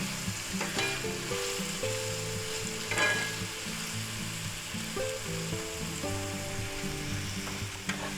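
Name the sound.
garlic sizzling, stirred in a pan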